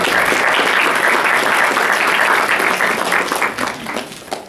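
Loud, dense applause from a crowd, clapping steadily and then thinning out toward the end.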